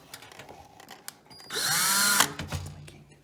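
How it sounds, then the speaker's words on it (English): An electric power drill whirs up for about a second, boring a new screw hole into a computer case, with a rising then steady whine, up close, followed by a few clunks as it winds down. "my dad is making new holes for it"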